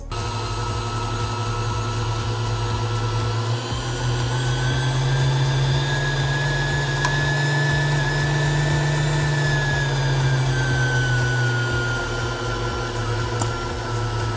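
A frozen yogurt machine churns yogurt with a steady, loud motor hum and whirr that stays even and continuous from start to finish, with no voices over it.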